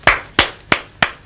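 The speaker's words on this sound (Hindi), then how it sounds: "ताली बजाना जानते हैं?" Four sharp hand claps in an even, steady rhythm, close and loud, each a crisp slap with a short decay and no voices in between.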